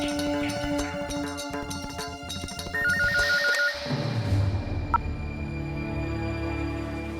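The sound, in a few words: telephone ringtone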